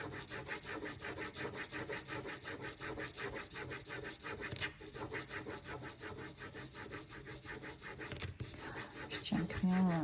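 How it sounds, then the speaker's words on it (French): A pencil scratches hard on paper during automatic-writing drawing, a steady, rhythmic close rasp of repeated strokes that keeps up throughout and grows a little louder near the end. "Je tiens le crayon vraiment fort parce que ça part en cacahuète."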